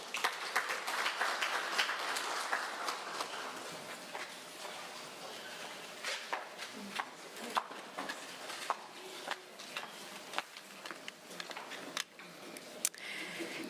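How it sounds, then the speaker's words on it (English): Applause from the audience at a Zimbabwe Prisons and Correctional Service parole conference, a dense round of clapping that peaks early and then thins into scattered, distinct claps over roughly fourteen seconds. "Another resounding round of applause."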